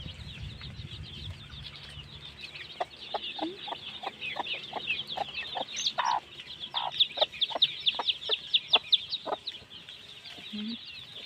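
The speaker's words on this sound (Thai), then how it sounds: "ดูแม่ไก่เรียกทีเดียวออกไปเต็มเลย" A Hmong breed mother hen clucks in quick, repeated calls close by, calling her chicks, which peep around her, with a low voice briefly at the start.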